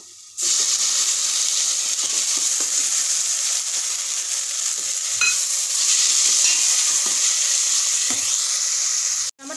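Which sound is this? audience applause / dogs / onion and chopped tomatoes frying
onion and chopped tomatoes frying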